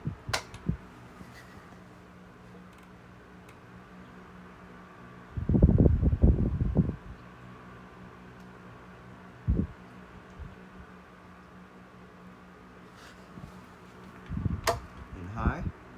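A first-generation 1970s Galaxy Lasko 3150 desk fan oscillates with a steady low mechanical hum, broken by a few louder whooshing bursts as the blowing air sweeps past.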